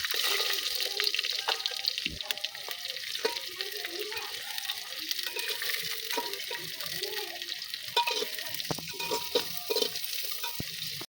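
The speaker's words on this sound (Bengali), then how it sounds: "জিরে ফোড়ন দেব, গোটা গরম মশলা, তেজপাতা, পেঁয়াজ কুচি" Cumin seeds, whole garam masala, bay leaf and chopped onion fry in mustard oil in a handi pot, giving a steady close sizzle with scattered pops and light stirring clicks throughout, and no voices.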